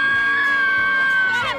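A crowd at the Pensacola Grand Mardi Gras parade screams and cheers, a shrill sustained whoop carrying over the crowd noise before trailing off.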